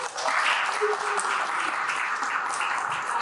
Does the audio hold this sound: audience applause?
yes